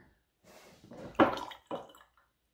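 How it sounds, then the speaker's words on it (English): Red-coloured water is poured gently into oil, giving a few soft, close splashing and trickling bursts separated by brief pauses in a quiet room. "So very gently pour the red water into the oil."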